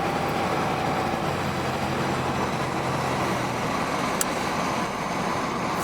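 A 1982 Chevrolet Camaro Berlinetta T-Top engine held at half throttle, a steady, loud droning rumble sustained evenly with no breaks and no one talking.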